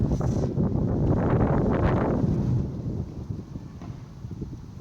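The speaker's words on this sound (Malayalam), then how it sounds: "വാ ഭയങ്കര കാറ്റ്" Strong wind gusts buffet the microphone in loud, rumbling bursts, swelling over the first two seconds and then easing to a lower, uneven rushing.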